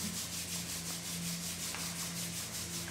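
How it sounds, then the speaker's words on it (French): Two hands rubbing briskly together make a steady, continuous dry friction swish with a faint hum underneath, close and alone. "On frotte ses deux mains."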